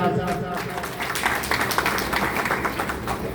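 An audience at a Guru Purnima religious gathering claps together in a sustained round of applause, with a voice still audible over the crowd.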